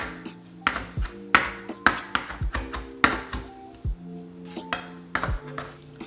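Cilantro, dill and parsley are roughly chopped on a board, a knife tapping in an irregular run of sharp knocks over about a dozen strokes, close and crisp.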